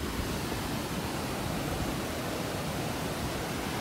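Steady, dense roar of ocean surf at Sayulita beach, Mexico, a continuous broadband wash with no distinct wave breaks, loud and close, no voices.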